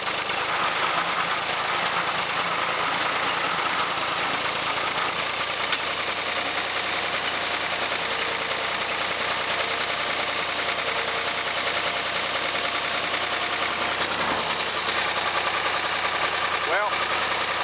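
Farm harvester engine running steadily during wheat harvest after a fuel problem was fixed, a continuous loud mechanical drone throughout with faint knocking, no talk.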